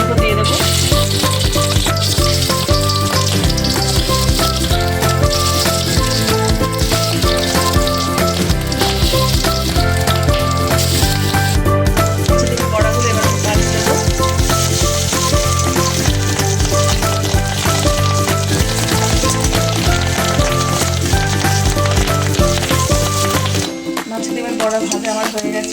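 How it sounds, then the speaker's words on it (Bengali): Fish roe fritters fry in hot mustard oil in a wok, giving a loud, continuous crackling sizzle that holds steady for most of the time before dropping away abruptly near the end. "এবার মাছের ডিমের বড়াগুলো আমি তেলের উপর দিয়ে দেবো।"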